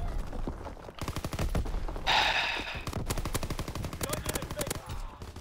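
Rapid bursts of automatic gunfire crackle through a World War II video game match, dense rattling volleys with a sharper blast in the middle, while players talk over it.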